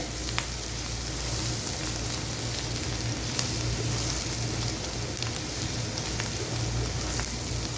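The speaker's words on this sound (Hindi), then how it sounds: "अब हल्की सी इनकी हम भुनाई करेंगे ताकि लहसुन का जो कच्चापन है वो ख़त्म हो जाए।" Ginger and garlic fry with onions over a low flame, giving a steady, even sizzle that continues throughout with a few faint clicks, close and constant with no talking.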